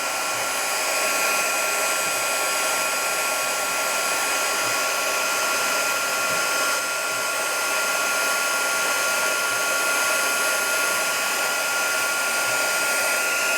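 Crafting heat tool blowing hot air over a hand-stamped Christmas greeting card, a steady loud whooshing fan roar that holds unbroken throughout with no voices.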